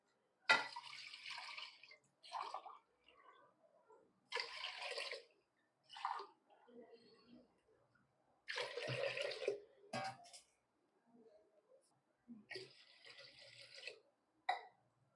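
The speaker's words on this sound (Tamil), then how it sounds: "ஒரு கிளாஸ்க்கு இதால் 4 கிளாஸ் அளவு தண்ணி ஊற்றிக்குவோம்." Water is poured glass by glass into a cooking pot for green gram porridge, heard as several separate splashing pours with quiet gaps between them, fairly faint and without talking.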